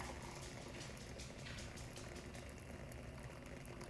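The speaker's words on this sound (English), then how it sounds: "I'm going to measure out 2 cups of boiling water" Hot water pours in a steady, quiet gurgling stream into a container, continuous throughout with no talking.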